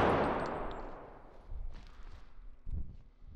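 A shotgun blast in the game Bodycam opens loud and booming, then fades in a long tail, followed by softer thuds and a second muffled report.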